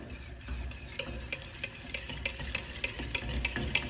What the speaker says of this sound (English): Keep whisking and get it all melted down.